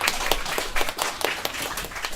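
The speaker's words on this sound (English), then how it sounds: "Give yourselves a round of applause." Audience applause at a holiday concert, a steady patter of hand clapping from a modest crowd with irregular louder bursts, fairly close and with no voices over it.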